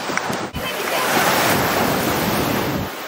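Surf washing onto a beach shore during a Melasti ceremony at Sangsit, Bali, a steady broadband roar of breaking waves with wind buffeting the microphone, loud and continuous for about three seconds.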